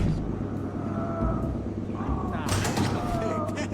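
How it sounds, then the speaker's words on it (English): In the Mafia 2 video game, a pig screams in a short, loud, drawn-out squeal that rises near the end, heard under people talking. "That was a pig."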